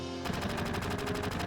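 Rapid gunfire from the Final Fantasy VII video game, a fast rhythmic burst of shots repeating steadily and evenly throughout, loud and alone with no talking.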